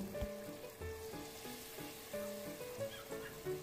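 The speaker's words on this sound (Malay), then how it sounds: "Goreng tahu hingga kembang dan kuning keemasan." Tofu fries in oil previously used for frying chicken, giving a steady, close sizzle with scattered small pops and crackles.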